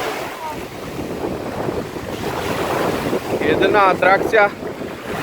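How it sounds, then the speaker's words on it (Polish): Sea waves wash onto a shore while strong wind buffets the microphone, a steady close roar with people talking over it near the end. "Tutaj to chyba te fale fajne."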